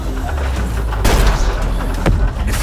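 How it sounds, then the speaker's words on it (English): Sharp gunshots crack out in a dense, noisy soundscape from the video game The Walking Dead: Destinies, a few distinct bursts standing out around the middle and near the end. "Gunfire's attracting walkers."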